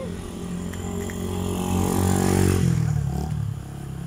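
A motorcycle engine labors loudly and steadily as it struggles to shift gears, its rough drone swelling near the middle and easing off toward the end, with some clattering mixed in and no talk.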